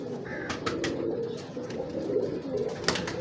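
A breeder pigeon coos softly and repeatedly close by, with a few sharper bird sounds over a steady background murmur.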